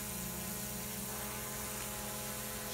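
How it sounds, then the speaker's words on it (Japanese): A drone flying overhead above an outdoor stage at Hitoyama on Shodoshima island, giving a steady buzzing drone that stays constant and fairly loud throughout, with no talk. "舞台の上空にドローンを発見しております。"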